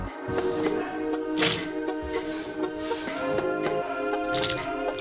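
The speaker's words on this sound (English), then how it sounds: "To do this, we transfer it to the cold water." Wet squishing and splashing as potato sticks drop into cold water, several soft plops and drips in irregular succession, close up.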